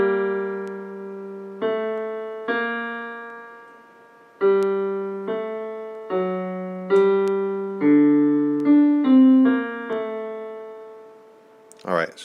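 Minuet in G Minor played from measure 5 on a keyboard-like instrument, a steady run of clear sustained notes, each one plucked and slowly fading, close and solo with no voices over it.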